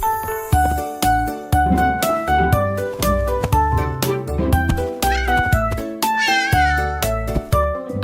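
Cartoon cat meowing repeatedly over a bright, bouncy children's song with tinkling accompaniment; several clear meows sit on top of the loud, steady music.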